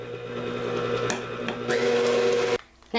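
An electric mixer whirs steadily while beating cream cheese frosting in a bowl, a close, constant motor hum that briefly cuts out and then starts again at the end.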